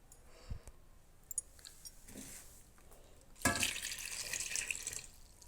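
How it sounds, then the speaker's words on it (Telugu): Quiet splashes and drips of water as gongura leaves are washed, with a few small clicks and then a louder gush of tap water running into a vessel. "వాటర్లో మంచిగా కడుక్కోవాలండి."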